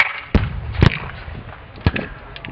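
Civil War cannon fired by lanyard-pulled friction primer at a Gettysburg re-enactment: three sharp, loud booming reports spaced irregularly, each a sudden broadband blast with a brief decaying tail over outdoor background noise.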